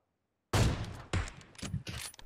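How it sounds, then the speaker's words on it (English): Gunfire from a sniper rifle landing a headshot in the mobile battle-royale game PUBG Mobile, a loud sudden blast followed by two or three further sharp reports and game clatter, with no speech. "I got him with a juicy headshot."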